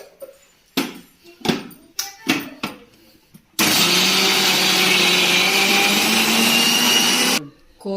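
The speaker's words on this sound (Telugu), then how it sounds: "అందుకోసము ఇదిగో దీన్ని ఇప్పుడు మిక్సీ పెట్టాలి." A mixer grinder whirs loudly and steadily for several seconds, grinding soaked lentils for masala vada, after a series of sharp knocks and clatters as the jar is set up, then cuts off abruptly.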